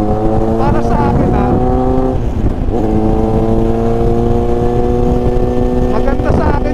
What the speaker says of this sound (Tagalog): Gusto ko yung sounds ng inline 4